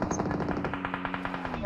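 Rapid machine gun fire rattles without pause in a battle royale shooter, loud steady bursts under a low engine-like hum, with no voices.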